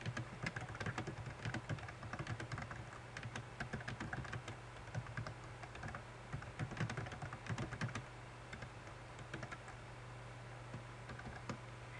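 Steady, close computer-keyboard typing with fast bursts of key clicks for most of the stretch, easing off near the end over a low constant hum, with no voices.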